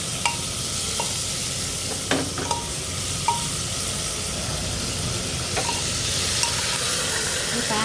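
Mutton with spices sautés in hot oil for a mutton curry, giving a steady close sizzle broken by several sharp clinks and scrapes of a spoon stirring the pan.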